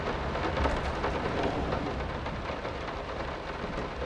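Heavy rain pours steadily during a storm in the horror game Layers of Fear, a dense, loud, continuous wash with low thunder rumbling underneath and no talk.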